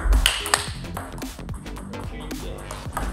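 Table tennis ball struck with a paddle fitted with Butterfly Dignics rubber, a few sharp close pings at irregular intervals with faint room noise between.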